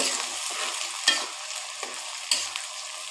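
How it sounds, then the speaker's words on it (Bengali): Garlic and chili frying in mustard oil hiss with a bright sizzle as a spoon stirs them, two sharper scrapes standing out against the steady crackle, close up with no voices. "আমি 1 কাপের মতো রসুন দিলাম, কিছুটা মরিচ দিয়ে দিলাম, দিয়ে আমি নেড়ে চেড়ে নিব"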